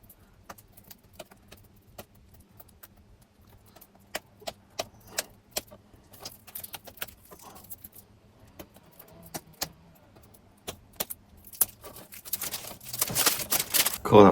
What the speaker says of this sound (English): We're going to get this plastic off first though,